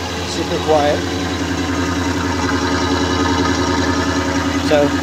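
A Chevy K10 truck idles steadily on its stock quiet exhaust, a smooth low rumble held up close throughout, with faint brief squeaks on top.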